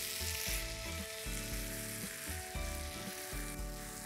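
Soya kheema sizzles steadily in released oil in a pan while being stirred and mixed, a loud continuous fry with rhythmic scraping strokes throughout, no voices.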